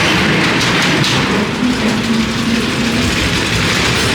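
A steady mechanical rumble of a ghost train ride car rolling along its track at Blackpool Pleasure Beach, with clattering and a low hum, continuous and fairly loud throughout.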